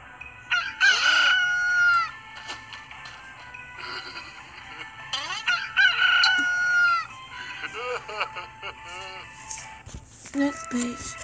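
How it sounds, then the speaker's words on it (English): A rooster crows several times in a row, loud and close, with other birds and farmyard clucking around it. "When he heard the rooster crow,"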